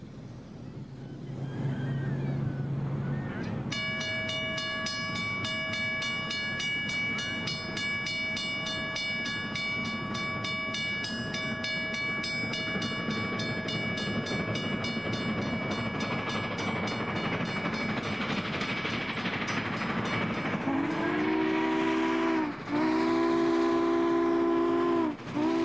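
Southern Pacific 4449, a Lima-built 4-8-4 steam locomotive, roars past loud and close from a tunnel mouth, with chuffing, rail clatter and a long sustained multi-tone whistle, then a final sharp whistle blast near the end.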